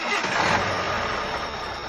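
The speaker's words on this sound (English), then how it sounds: "Joe started the engine, and the journey began." A truck engine cranks and catches, a dense close rumble rising briefly then settling into a rough running drone over two seconds, with no talk.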